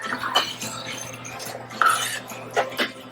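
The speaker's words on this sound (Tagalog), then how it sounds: "Stir in just to make sure everything is covered with tomato sauce" A utensil scrapes and clinks against a pan while tomato sauce is stirred into a beef mixture, a few distinct knocks and scrapes close up over a low background hum.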